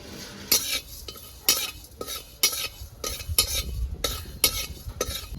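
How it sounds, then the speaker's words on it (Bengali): Panch phoron spices frying in a kadai, stirred with a metal utensil in regular scraping strokes about every second, with a faint sizzle underneath; close and fairly loud, no talking. "অল্প পাঁচ ফোড়ন ভেজে নিচ্ছি"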